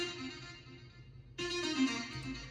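A chopped, processed saxophone sample loop from a remix, a steady harmonic tone that jumps brighter and louder about halfway through, with no talking over it.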